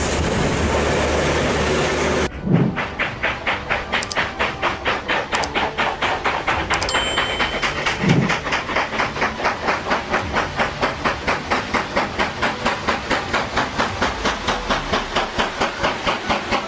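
A train runs along the seaside railway line at Dawlish, England. A loud rushing burst gives way to a steady, rhythmic clickety-clack of wheels passing over rail joints, close by, with occasional sharper squeals and no talking.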